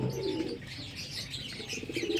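Pigeons coo steadily and close by, with sharp chirps and brief scuffles breaking in, plus a few soft wing flaps throughout.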